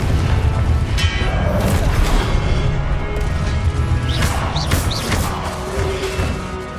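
Confringo spell in the video game Hogwarts Legacy, a dense, loud stretch of crashing blasts and thuds layered over continuous combat noise, with short whooshing effects mixed in.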